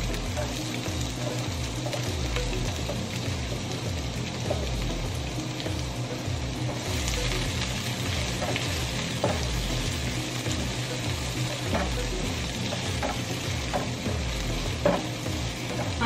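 Garlic and onion sauté in a hot pan, a loud continuous sizzle broken by regular scraping strokes of stirring close by, with no talk.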